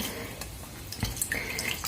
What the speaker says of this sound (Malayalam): അപ്പൊ ഞാനിവിടെ ഈ ഒരു വെള്ളം ഉപയോഗിച്ച് ക്ലീൻ ചെയ്യണം